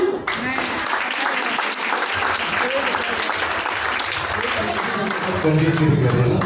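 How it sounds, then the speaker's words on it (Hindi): A church congregation claps in sustained, dense applause that swells slightly toward the end, with voices mixed in beneath the clapping. "तालियां।"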